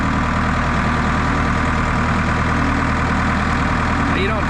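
A telehandler's diesel engine rumbles steadily in first gear, loud and close, a constant low drone running throughout without break.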